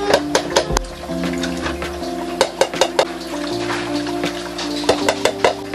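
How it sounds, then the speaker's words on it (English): Canned mixed vegetables and their juice are poured into a cooking pot, with repeated metallic clanks, knocks and a wet sloshing pour, close and fairly loud. "We're gonna throw 3 cans of mixed vegetables in there."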